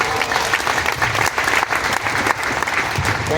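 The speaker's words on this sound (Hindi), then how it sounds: "जोरदार तालियां मिलन मैम जी के लिए" Audience applause at a public address event, dense steady clapping filling the whole stretch at full loudness with a faint crowd murmur and no speech over it.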